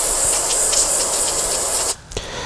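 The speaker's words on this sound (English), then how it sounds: "use some carb cleaner on it" Carb cleaner sprays from an aerosol can onto a Walbro HDB carburetor gasket in one loud, continuous close hiss lasting about two seconds, then cuts off, leaving a brief quieter follow-up sound.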